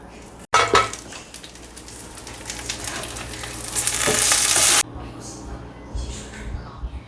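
Gendar rice cake fries in a pan of hot oil with a steady loud crackling sizzle, with occasional clinks of a utensil against the pan. The sizzle swells and then cuts off abruptly, leaving quieter background noise.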